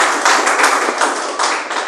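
A church congregation claps for Jesus during a worship service, a loud, dense burst of many hands with a steady rhythmic pulse throughout.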